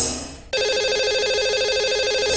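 A phone line rings out as a radio show dials a caller, a steady electronic ringing tone that starts abruptly and holds loud and continuous, with no talk.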